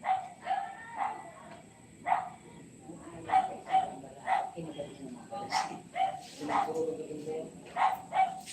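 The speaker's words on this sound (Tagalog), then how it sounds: "Lakas ng tahol ng aso." Repeated loud dog barks, close by, coming in irregular bursts over steady background noise, with people talking softly underneath.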